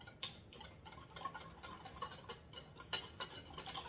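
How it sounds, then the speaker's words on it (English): Honey being stirred into plain Greek yogurt, heard as a steady run of soft, rhythmic ticking clicks from a utensil tapping the bowl, faint and close with no talk. "We're just gonna mix this together."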